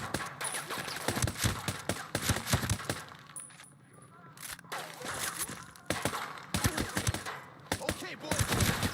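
Rapid automatic gunfire in a video game, with loud close bursts in clusters broken by short lulls and a quieter stretch in the middle, and faint voices underneath.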